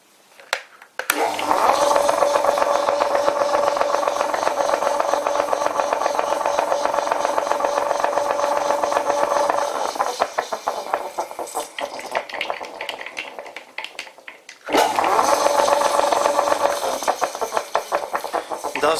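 An old WW2-era Fischer lathe runs under test after its pulley parts were bolted back together. A loud, sustained mechanical whir with a steady tonal hum cuts out, winds down, then starts up again, close by and without speech.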